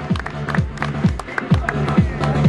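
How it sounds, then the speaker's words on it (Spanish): Crowd at a model aircraft exhibition applauding a participant, dense clapping that rises in waves over a repeating low-pitched musical or voice pattern, with crowd noise throughout. "un fuerte aplauso"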